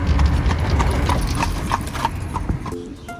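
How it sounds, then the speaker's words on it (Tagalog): Hooves of a horse pulling an Amish buggy clip-clop in a steady trotting rhythm on a Philadelphia-area street, close and clear, with a brief whinny-like tone near the end. "Oh, yan yung transportation nila guys. Yan, kabayo lang."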